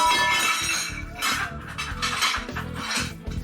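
Dishes and glassware clink and clatter during washing up at a sink, with a glass breaking among rapid, close clanks of crockery and cutlery.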